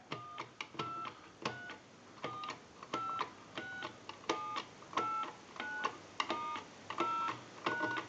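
A Cracraft Leich wood wall telephone dials a number, giving a steady series of short, evenly spaced tone pulses and clicks at close range with no talking.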